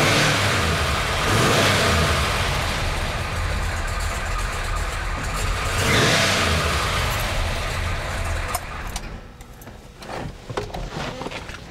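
A 1970 Chevelle Super Sport V8 revs hard under throttle blips, loud sustained roars rising and falling twice before settling toward a rougher idle with a few sharp bursts near the end.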